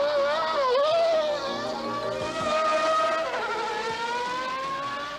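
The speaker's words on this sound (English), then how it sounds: "these cars are being cornered at speeds which would terrify even the bravest road driver" Honda Marlboro McLaren racing cars from 1991 cornering hard on a circuit, a loud continuous high-pitched engine whine that rises and falls with gear changes and cornering speed, with no talk over it.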